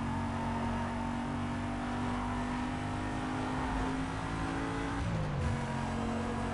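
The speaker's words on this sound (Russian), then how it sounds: "Зато мы слышим звуки движка." A car engine in the video game Need for Speed: Most Wanted drones loudly and steadily with harmonic whine during a race, briefly dipping in pitch near the end as if shifting gears, no talking.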